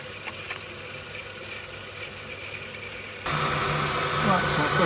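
Gas boiler firing up after repair, a faint background hum that suddenly jumps to a steady, louder broadband roar partway through and continues running.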